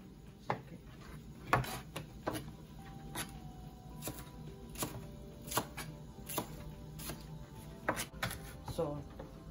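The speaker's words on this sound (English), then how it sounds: "Your second key ingredient slash seasoning is gonna be fresh garlic. So you're gonna wanna crush it and mince it." Fresh garlic being crushed and minced on a cutting board: a series of sharp knife taps and chops, irregular and close, over faint background noise.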